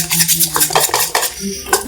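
Mysore pak batter being mixed with a spoon or whisk, a steady busy clatter and scrape of metal against a bowl, close and fairly loud, with no voices.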